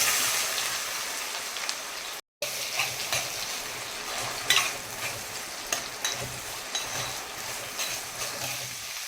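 Chopped bitter gourd drops into a hot pan with curry leaves and mustard seeds, frying with a steady close, loud sizzle and crackle that continues throughout, broken only by a brief gap.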